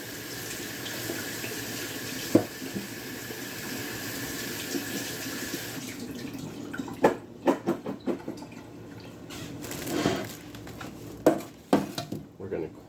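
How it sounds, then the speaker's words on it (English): Potatoes washed under a running kitchen tap: steady water stream for several seconds, then the flow breaks into splashes, knocks and rubbing sounds in the sink, close by, with no talk. "Wash your potatoes."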